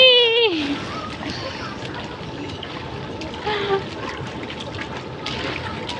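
Children splashing and playing in a swimming pool, with steady watery splatter and sloshing over a busy wash of noise, and a voice heard briefly near the start.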